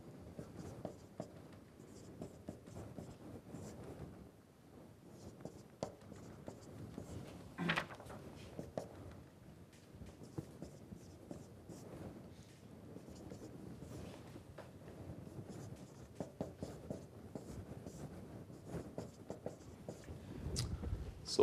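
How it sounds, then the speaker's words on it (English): A lecturer writes results on a board during a solid mechanics lecture, making soft, intermittent scratching strokes that are quiet and steady with no talking. "Let me write down the results again."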